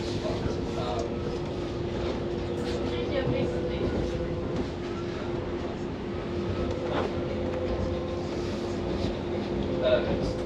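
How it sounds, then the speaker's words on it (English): Traction motors of a new B23 DLR light-rail train whine steadily as the carriage runs, a constant tonal hum over rumbling wheel and track noise, heard from inside and fairly quiet, with brief clicks along the way. "I love the motor sound. I absolutely love the motor sounds"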